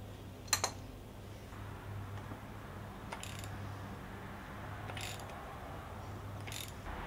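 A socket wrench ratchets at glow plugs on a Mercedes 240D diesel engine, with a few brief, faint clicks spaced a couple of seconds apart over a low steady hum.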